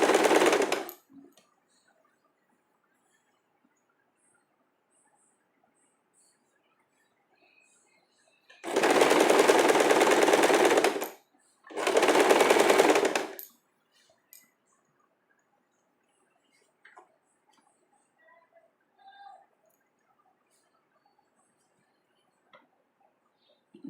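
A sewing machine stitches a cami top in two loud bursts of a few seconds each, separated by a short pause, with a brief start at the beginning and quiet between runs.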